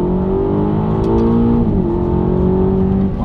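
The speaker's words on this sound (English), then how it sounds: "Does it even feel like you're driving an SUV?" An SUV engine pulling under acceleration while driving, heard from inside the cabin as a loud, steady drone that rises slightly in pitch and then shifts as the gear changes, with no talking.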